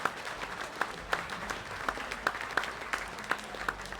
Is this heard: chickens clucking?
no